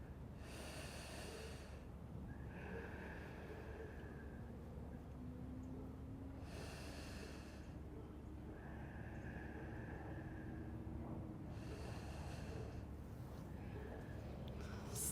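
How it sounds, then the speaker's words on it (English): Slow deep breaths held in a headstand-style yoga pose, airy inhales and exhales in a steady rhythm of about three cycles, close and soft over a faint background hum. "3 breaths here."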